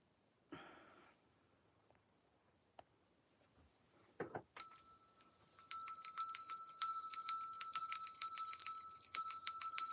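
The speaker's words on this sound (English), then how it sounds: "When I ring this bell, that means somebody got themselves blocked, and I'm ringing out their energy." A hand bell is rung over and over after a few soft breaths and clicks, its bright metallic tone ringing close and loud, with overlapping rapid strokes that keep sounding to the end.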